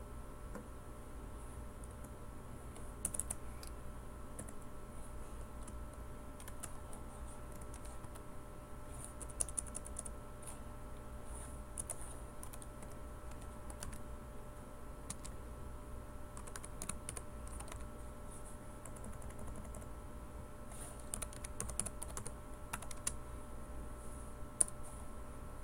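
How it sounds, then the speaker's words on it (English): Steady keyboard typing on a computer while editing a Minecraft turtle program, soft rapid key clicks running through the whole stretch over a low background hum, with no talking. "Having a little trouble typing"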